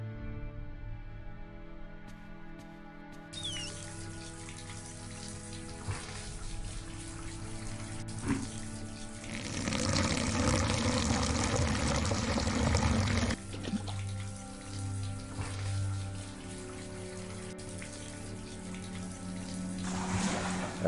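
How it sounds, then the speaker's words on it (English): Water pours steadily into a washing tub in the point-and-click game The Safe Place, a broad splashing rush that swells midway and then settles, layered over a quiet ambient music bed with no talking. "Okay, now I need to pour water inside."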